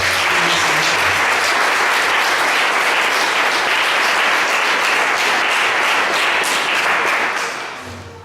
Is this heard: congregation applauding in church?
yes